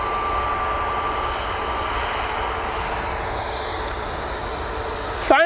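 EasyJet airliner jet engines at Manchester Airport, a steady close roar with a faint whining tone early on, holding evenly before a brief sharp noise at the very end; no speech.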